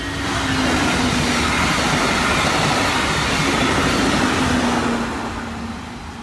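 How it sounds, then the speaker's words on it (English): A train rolls past in Delray Beach, a loud steady rumble of rail cars with a low droning tone that holds throughout and eases slightly at the end. "we got to see the train go by."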